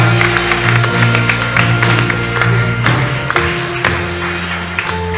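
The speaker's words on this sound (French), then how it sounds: "Nous acclamons pour le roi des rois." Audience applause and clapping at a church convention in the Ardennes, a dense, steady wash of many hands sustained throughout over a low musical drone, with scattered sharper claps standing out near and loud.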